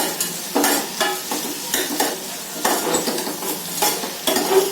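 Ingredients for a taro root tamarind stew frying in a pan, a loud close sizzle with rhythmic bursts of stirring and spatula scrapes about every second, no voices.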